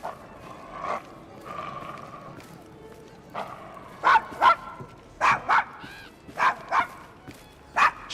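A dog in a Victorian London street scene from Assassin's Creed Syndicate barks in short, sharp bursts, sparse at first, then in quick pairs growing louder, with faint voices underneath.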